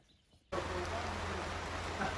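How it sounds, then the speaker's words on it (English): Steady rain hisses evenly after a sudden start, a constant close wash of falling drops with no pauses. "Nice bit of rain this evening."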